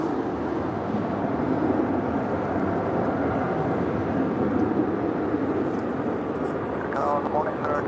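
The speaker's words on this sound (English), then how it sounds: "we just had Air China 777-300ER coming in from Beijing, flight 681, just landing on 25 left" Air China Boeing 777-300ER from Beijing landing on runway 25 left at LAX, a broad, continuous jet engine roar held under a voice that talks throughout.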